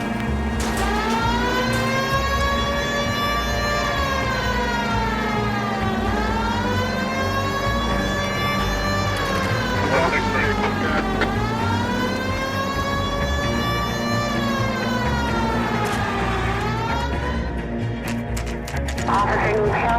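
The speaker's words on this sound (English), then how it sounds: "Why aren't you using the siren?" A police car siren wails in the LA Noire video game, rising and falling in long, repeated sweeps over an engine drone, loud and continuous throughout.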